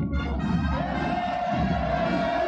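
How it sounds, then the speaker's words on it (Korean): A large crowd roars continuous hurrahs at a military parade, a dense, sustained wall of cheering voices with a steady tone running through it, heard from a distance without letup. "우렁찬 만세의 함성 끝없이 끝없이 울려퍼집니다"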